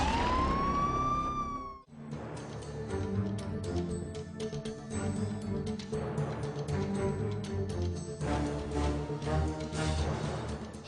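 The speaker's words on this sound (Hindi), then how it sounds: "पुलिस सायरन बजाती हुई पहुंचती है।" A police car siren wails loudly and sweeps in pitch as the vehicle arrives at a highway traffic jam, then gives way to a busy wash of traffic noise and repeated short electronic siren chirps.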